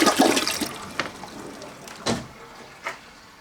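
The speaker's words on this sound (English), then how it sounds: "We installed the toilet, and it flushes." A newly installed toilet in a home bathroom flushes nearby, a strong burst of rushing water at the start that tapers into gurgles and a couple of later refill splashes.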